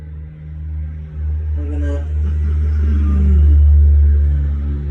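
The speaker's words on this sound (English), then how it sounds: "See, there's a big truck, motorcycle, bad muffler, did you hear it?" A big truck rumbles past with a loud low engine drone that swells and fades, and a motorcycle with a bad muffler may be mixed into the passing noise. It comes through during a yoga session, and a voice speaks briefly over it.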